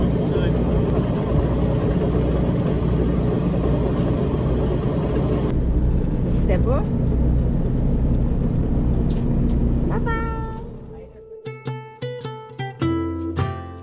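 A boat's motor runs steadily on a northern crossing, a loud continuous low drone that carries on before fading, with some voices and a bird call near the end.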